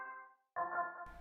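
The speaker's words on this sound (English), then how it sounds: "It's like a reggae organ" A Serum synth reggae organ patch sounds two short chord stabs separated by a brief gap, fairly faint and close, with a burst of noise at the very end.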